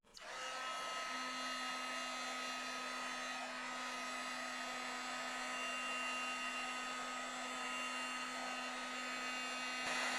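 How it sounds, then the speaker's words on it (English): Heat gun blowing hot air to soften plastic wire insulation while wiring a Ford Model A, a steady loud whooshing roar that starts abruptly and holds evenly. "Just take a heat gun."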